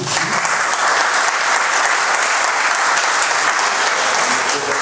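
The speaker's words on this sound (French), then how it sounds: "Vous pouvez l'accueillir en l'applaudissant s'il vous plaît." A lecture-hall audience applauds steadily, a dense, even wash of many clapping hands at constant loudness throughout, with no voices standing out.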